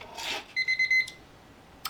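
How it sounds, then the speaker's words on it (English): A kitchen timer beeps in a quick run of about four bright, close electronic tones while sourdough English muffins cook, preceded by a soft rubbing sound and followed by quiet room tone. "there went the timer"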